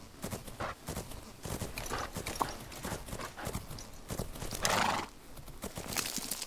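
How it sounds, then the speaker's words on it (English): Hoofbeats of a horse cantering in the video game Fernhoof Grove, a steady rapid clip-clop rhythm close up, with a brief whinny near the middle and no talking. "That is a long canter."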